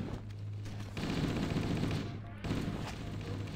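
Rapid bursts of assault rifle fire from Halo: Combat Evolved during a Slayer match, loud continuous automatic volleys broken by a short pause, with game ambience behind.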